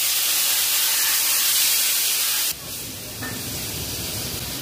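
Boiled vegetables and their cooking water hit a hot spiced pan, giving a loud steady hiss that abruptly drops to a softer ongoing sizzle midway.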